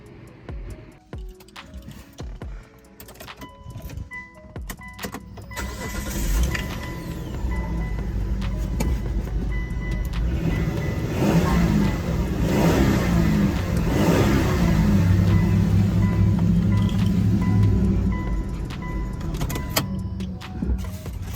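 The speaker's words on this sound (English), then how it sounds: "We need to crank this car." A 2007 Hyundai Tucson with a 2.7L engine cranks and fires up after a fuel pump replacement, a short starter whir building into a steady, loud idle that holds close by with no talking.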